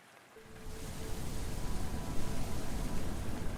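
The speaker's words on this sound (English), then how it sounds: "The rain caresses her palms." Rain falls steadily in the video game Arknights, a soft continuous hiss that swells slightly and holds at a low, even level with no voices.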